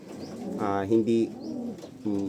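Pigeons coo close by in soft throaty bursts, several overlapping calls in quick succession.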